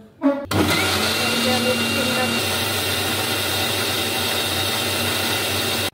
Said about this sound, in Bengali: এই যে আমার ব্লেন্ডার করা শেষ।